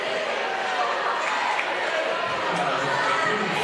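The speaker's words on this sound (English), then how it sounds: "there are a lot of folks here in the stands, and it is a raucous crowd" A raucous crowd fills the stands at a varsity boys basketball game, a steady dense roar of chatter and cheering that stays loud and constant throughout, with no distinct voice standing out.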